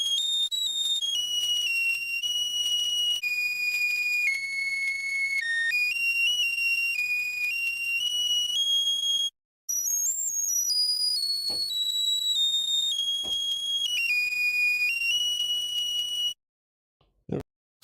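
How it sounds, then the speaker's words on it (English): Singing arc sample captured on a cell phone: a loud, steady electrical whine with shifting tones, broken by brief silences and a few sharp clicks. "sample I made of someone's singing arc"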